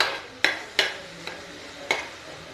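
Spiced semolina with crushed roasted cumin and coarse black pepper being dry-roasted in a pan, a few sharp spoon scrapes and stirring clacks spaced about half a second apart over a quiet background.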